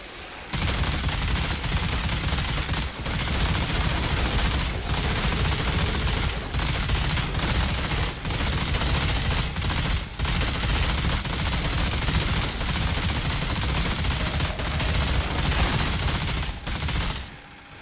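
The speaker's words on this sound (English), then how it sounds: "There we go, minigun time." Minigun fire from the Outriders video game, a loud, near, continuous roaring burst of rapid shots running almost unbroken for about sixteen seconds, with only brief dips between long sustained volleys.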